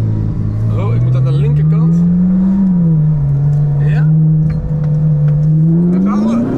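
A car engine revs and pulls hard under acceleration on a runway, its steady loud drone rising in pitch toward the end while people talk over it.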